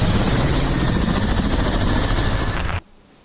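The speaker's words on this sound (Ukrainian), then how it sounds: "Це К-52 або «Алігатор» – розвідувально-ударний гелікоптер країни-агресора" A Russian Ka-52 Alligator attack helicopter flies close by, its loud, steady rotor thump and turbine roar filling the air before cutting off abruptly near the end.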